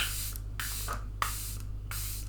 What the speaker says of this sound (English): I'm using the Charlotte Tilbury Airbrush Flawless Setting Spray.